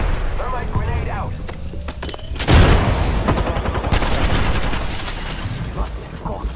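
Gunfire in a ranked arena shooter game rattles in dense, continuous bursts with one heavier blast, loud and close under a steady stream of combat noise and speech.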